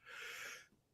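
A single short, sharp sneeze-like burst of breath, close and quiet, fading quickly.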